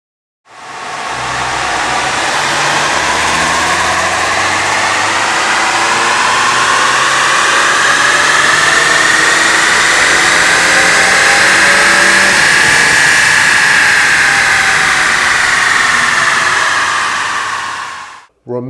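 A modified 2018-and-later 10th-gen Honda Accord with a Stage 3 ECU tune, high-volume intake, upgraded intercooler and PRL downpipe revs hard through a dyno pull, a loud steady climb held for about seventeen seconds before cutting off.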